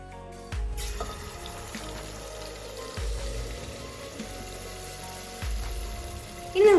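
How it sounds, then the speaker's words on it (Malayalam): Batter hisses and sizzles as it is poured into a hot cooker greased with ghee and coconut oil for an evening snack, with a few dull low thuds between the steady frying. "ആ ചൂടായിട്ടുള്ള കുക്കറിലേക്ക് നമ്മുടെ മാവ് ഒഴിച്ചു കൊടുക്കാം."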